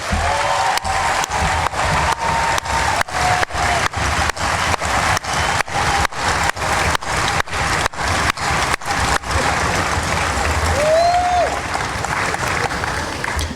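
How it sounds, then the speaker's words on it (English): Thunderous applause from a large crowd at an outdoor military infantry graduation ceremony, sustained and loud throughout, with a steady wash of clapping and a faint whistle near the end. "Please join me in a thunderous applause for the unsung heroes who build our warriors,"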